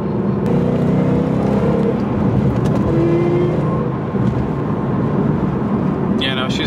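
A supercharged Ford Mustang, thought to be misfiring with a failing catalytic converter, drives on the road with a loud, steady in-cabin engine drone and road rumble, a brief higher whine near the end, and someone talking over it.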